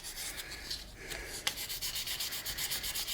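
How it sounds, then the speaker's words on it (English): Fine 600-grit wet sandpaper rubs over a CA-finished pen in quick, even back-and-forth strokes, close and quiet, with a steady scratchy rhythm throughout. "I'm going to sand those ridges out."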